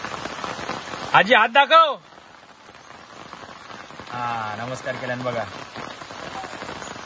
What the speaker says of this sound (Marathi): सकाळी सकाळी पावसाची एकदम मजा घेता मस्तपैकी.